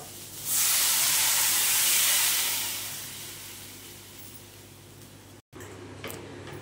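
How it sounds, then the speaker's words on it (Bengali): Water poured into a hot pan of cooking Mughlai-style dal sets off a loud, close burst of steamy hissing that swells quickly and then slowly fades, followed by quieter bubbling after a short cut. "এবার এতে দিয়ে দেব জল সেদ্ধ হওয়ার জন্য।"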